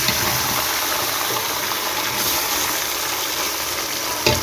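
Chicken pulao frying in a pot, a loud, dense, continuous sizzle with a faint stirring scrape near the end.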